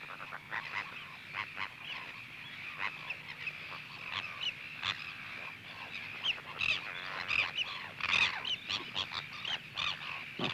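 Gulls and terns call at a nesting colony on an island, with dense, overlapping squawks and harsh honking cries that carry on steadily and fairly close.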